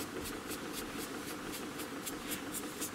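Fine 0000 steel wool rubbing excess graphite off a plastic surface, a steady close scratchy hiss with quick rhythmic back-and-forth strokes, about four per second.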